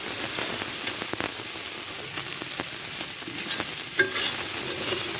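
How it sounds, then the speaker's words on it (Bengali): Soybean chunks with turmeric fry in a kadai and get stirred, giving a continuous close sizzle broken by scraping spoon strokes and a sharper clatter near the end, with no speech. "এভাবে আমি আবারও আমি 2 থেকে 3 মিনিট নাড়িয়ে নেব।"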